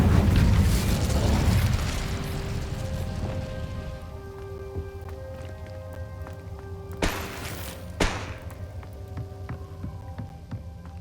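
An Incendio fire spell cast in Hogwarts Legacy, opening with a loud roaring whoosh of flame that fades over a couple of seconds into lingering tones, with two sharper bursts later on.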